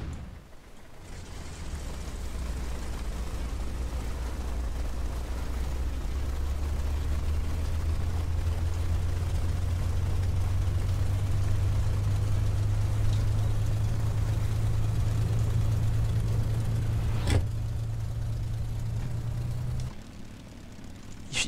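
Cold Spitfire piston engine in Flight Simulator X catching and warming up, a low, steady droning rumble that slowly rises in pitch over twenty seconds, with a brief click near the end, no voices.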